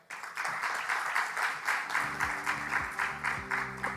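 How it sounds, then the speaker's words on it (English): An audience claps to welcome the keynote speaker at the MERCon2025 conference, applause rising quickly and holding as a steady, fairly distant roar while soft keyboard chords sound beneath it. "Ladies and gentlemen, with a warm round of applause, please welcome Professor Lingjia Tang"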